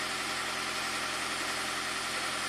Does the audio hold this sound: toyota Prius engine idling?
yes